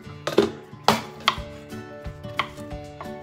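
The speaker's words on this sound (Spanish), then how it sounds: "vamos a partir nuestro ajo como en laminitas, así delgaditas." A knife slices garlic cloves into thin slices on a cutting board, a series of sharp, close chopping taps at an uneven rhythm, with no talking during the cuts.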